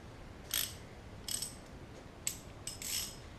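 Ratchet tightening the oil drain plug on a 1.8 liter Chevy Sonic, several short clicking bursts of the pawl, close and crisp, separated by brief pauses over a quiet background.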